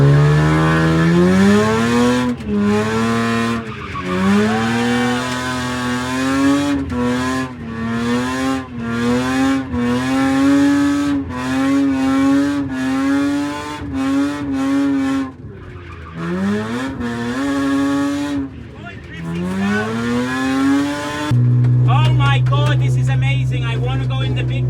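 A Lexus IS200 drift car drifts around a track with a graffiti paint job. Its engine repeatedly revs and bounces off the limiter in a sustained, rising and falling drone, broken by short gaps, with loud tire noise from worn tires.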